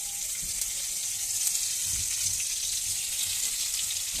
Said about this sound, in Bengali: তেলের মধ্যে যে একটু ফ্রাই করে নেবে ডিমটাকে